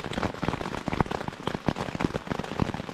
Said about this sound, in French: J'arrive pas à savoir comment les gens trouvent le bruit de la pluie satisfaisant